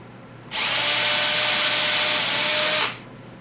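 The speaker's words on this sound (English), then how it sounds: "So I'll just drill a couple holes." A power drill drilling holes in wood whirs loudly for about two seconds, spinning up abruptly and stopping cleanly, close by, with a faint hum underneath.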